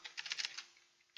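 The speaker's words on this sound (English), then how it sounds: "press Windows R, then type in temp" Quick keystrokes on a computer keyboard, a tight burst of clicks followed by a single lone tap, close and fairly quiet.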